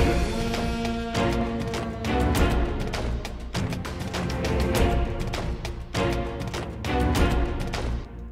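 Full orchestral battle music for the fantasy game Slormancer pounds along with heavy rhythmic percussion hits, brass and strings, loud and dense throughout without any talk.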